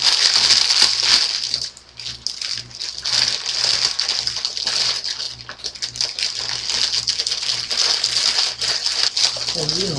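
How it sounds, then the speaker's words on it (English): Cheap plastic storage bags being crumpled and crinkled in a kitchen, a bright, continuous crackling rustle heard close up, with brief dips and a few lower sounds underneath. "Always buy the cheapest possible plastic bags to store stuff because"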